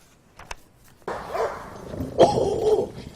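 Rescued fighting dogs that once had to fight to survive bark, yip and growl in a couple of loud, close bursts after a brief quiet start.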